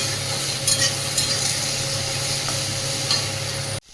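Prawns, eggplant, potato and bitter gourd stir-fry in a pan with a continuous close sizzle and periodic scraping clinks of a spatula, ending in a sudden stop.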